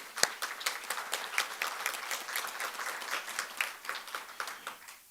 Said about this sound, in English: please let's an applause to Shannon.